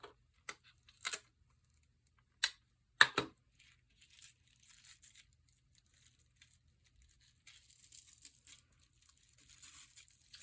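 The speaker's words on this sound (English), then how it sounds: "So I'm going to tape this branch down first." Sharp tearing bursts of tape near the start, a few quick rips close together, then soft crinkling and pressing as tape is applied to a paper Christmas tree circuit card, quiet with no talking.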